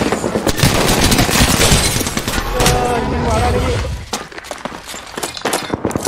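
Dense bursts of rapid gunfire and impacts from an online shooter match, loud and continuous with shattering crashes layered in, later thinning to scattered shots while voices talk over the action.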